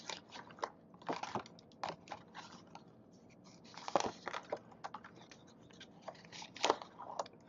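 Scissor backs scraping and peeling adhesive tape off a DIY paper calendar project, a quiet, close series of irregular crackly rips and scratchy scrapes with short pauses between.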